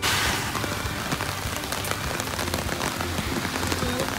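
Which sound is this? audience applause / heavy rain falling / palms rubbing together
heavy rain falling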